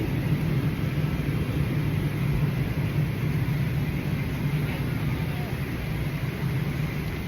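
Steady low engine rumble fills an airplane cabin in flight, a constant broadband drone with faint murmurs of passengers beneath it.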